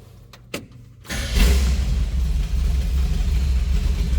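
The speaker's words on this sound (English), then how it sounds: "Great sounding truck. 350 fires right up." A 1972 Chevrolet C10 with a 350 V8 cold-starts after a brief crank, catching with a sharp surge and settling into a steady, loud, deep rumbling idle.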